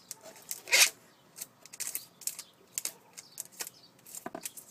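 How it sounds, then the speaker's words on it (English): Heavy duty packing tape handled and pressed onto a foam wing of a Hobbyzone Mini Super Cub during a repair, giving a loud crinkly rip near the start followed by a run of short, close crackles and taps. "I'm just using heavy duty packing tape."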